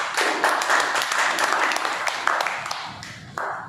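Sustained applause from an audience at a Toastmasters club meeting, a continuous wash of clapping that fades slightly then picks up again near the end.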